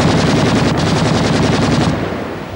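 Loud, continuous machine-gun fire rattles in a 1990 Chinese kung fu action film, a rapid rhythmic stream of shots that fades slightly toward the end.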